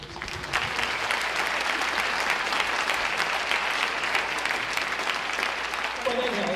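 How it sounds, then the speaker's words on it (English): Sustained applause from an audience at a school freshman acceptance event, steady dense clapping filling the room throughout with no pause. "I'm going to ask for a second round of applause for this"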